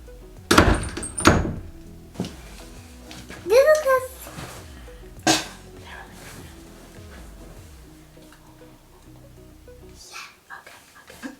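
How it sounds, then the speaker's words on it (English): An interior door is shut with a solid thunk near the start, followed by scattered knocks and a few voices speaking in a room. "Shut the door."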